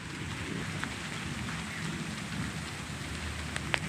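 Heavy, steady rain pours down around a village school during a storm, a dense continuous hiss with a low rumble of thunder beneath it and no voices.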